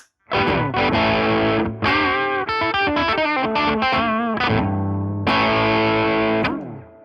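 Electric guitar played through the clean channel of a Rajani Amps VOD-50 amplifier with the gain three-quarters up and a 6 dB boost engaged, ringing out loud sustained chords and a busy run of single notes, with no voices.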